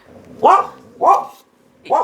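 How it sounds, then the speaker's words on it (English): Three sharp dog barks, evenly spaced about half a second apart, loud and close with short quiet gaps between them. "I have no idea why she's barking right now"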